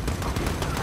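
Rapid bursts of automatic gunfire from Call of Duty: Modern Warfare (2019) in a London setting, a dense, loud stutter of shots packed into under a second with no pauses.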